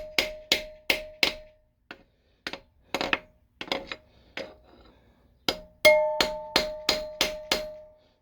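A hammer lightly taps metal parts of a Honda H22A4 engine being disassembled, giving bright ringing clinks in short bursts, pausing, then a quick steady run of taps near the end, close and alone.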